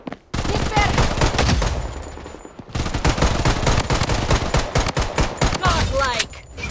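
Rapid gunfire in the shooter game Blood Strike, mostly pistol shots, loud and dense in near-continuous bursts with a brief pause midway, with game sounds mixed in.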